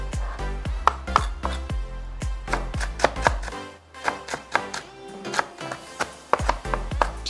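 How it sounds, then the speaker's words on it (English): A knife finely chops chives on a cutting board for Korean pancakes, with rapid, rhythmic close-up strikes in uneven bursts and a brief pause midway. "Chop it fine."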